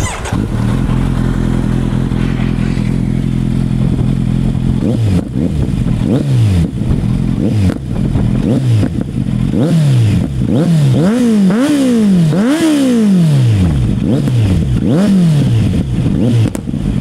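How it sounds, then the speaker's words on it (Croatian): A 2021 Kawasaki Z900 motorcycle engine idles steadily, then revs hard in repeated rising and falling blips, loud and close throughout with no talking. "kako vam se čini ovaj motocikl. A sada da ga čujemo"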